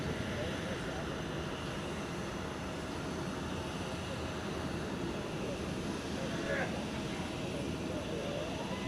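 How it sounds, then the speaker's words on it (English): An Austrian Airlines Embraer 195 rolls along a runway at Zurich Airport, its engines a steady broad roar heard from a distance, unchanging for the whole stretch. "We have got something rolling on the cross runway, and in Embraer 195, long range"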